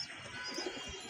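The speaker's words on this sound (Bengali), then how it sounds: "এই সে কবুতর" Pigeon cooing nearby, a quiet short low burbling coo heard alone.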